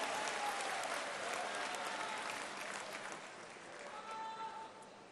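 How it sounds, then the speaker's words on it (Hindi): An audience at a public health-centre groundbreaking event claps to welcome the Chief Minister, sustained applause from a crowd that fades slightly and swells again. "आइए अभिनंदन जोरदार ताली बजा के स्वागत करें माननीय मुख्यमंत्री जी का।"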